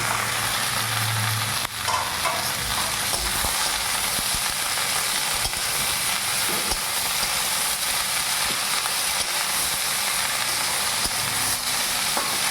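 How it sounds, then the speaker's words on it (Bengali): Tomato, peas and chilli drop into a hot pan of oil, giving a steady, close, continuous sizzle and hiss with faint stirring scrapes and no voices. "তার সাথে দিয়ে দিচ্ছি টমেটো মটরশুঁটি লঙ্কা"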